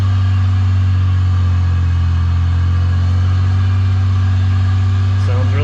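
A supercharged 3800 V6 swapped into a Pontiac 6000 wagon runs at a steady idle, loud and close, its low hum constant throughout with a brief rise near the end.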